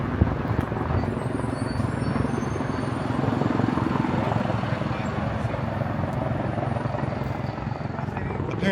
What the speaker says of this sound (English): That helicopter sounded like it was hovering really close by.